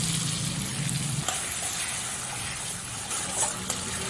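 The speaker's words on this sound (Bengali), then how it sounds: "এবার পুরো মশলাটা আমি খুব ভালো করে ভেজে নেব মিডিয়াম টু হাই ফ্লেমে" Spice paste and grated tomato frying over medium-high flame in a pan, giving a continuous close, loud sizzle with bubbling spits and a few faint clinks, for a Bengali katla fish and potato curry; no talking.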